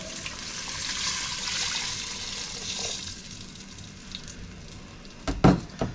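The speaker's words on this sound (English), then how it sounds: "add my 3 cups of water directly to this" Water pours into a pot of cooking onions, sizzling and hissing steadily with a broad rush, then a few sharper clanks and splashes near the end as the pot is stirred or handled.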